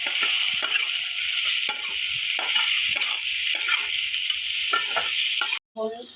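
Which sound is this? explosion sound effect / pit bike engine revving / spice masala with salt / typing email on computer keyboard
spice masala with salt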